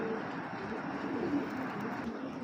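Tiger grizzle pigeons coo softly and continuously in a loft, a low murmuring flock sound running steadily throughout with no talk.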